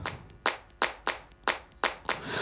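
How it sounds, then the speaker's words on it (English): Hand claps recorded on a microphone for a music production, five or six sharp, evenly spaced claps about every half second, close and dry with no voices. "the claps, which I recorded like on the mic, obviously, as well"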